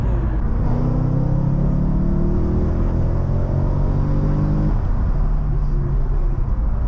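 A BMW E92 M3 accelerates hard through city streets in Mexico, its engine a loud, steady rumble heard from inside the car, with the pitch climbing through a gear before dropping and rising again.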